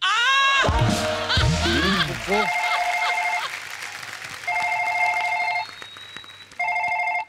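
A telephone rings in repeated bursts of bright electronic trills separated by short pauses, preceded by a stretch of lively talking and laughter.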